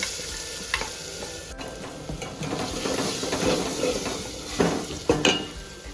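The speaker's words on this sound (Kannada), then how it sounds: "ಈರುಳ್ಳಿ ಫ್ರೈ ಆಯ್ತಾ?" Onions fry in a pan and get stirred, with a constant sizzle broken by sharp scraping and clanking of the utensil against the pan, several louder knocks near the end, and no voices.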